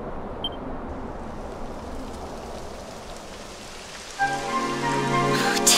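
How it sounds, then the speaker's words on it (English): In the video game Dragon Quest XI S, rain patters steadily as a soft, even hiss, then a brighter chiming game tone swells in near the end. "It would have to go and start raining, wouldn't it?"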